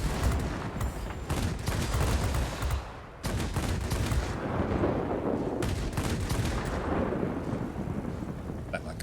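Aircraft machine guns firing in the video game World of Warplanes, a dense continuous rattle of gunfire with engine roar, broken by a brief pause, loud throughout.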